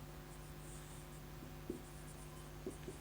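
A pen scratches faintly on paper while a geometry proof is written out, giving a few soft strokes over a low steady hum in a quiet room.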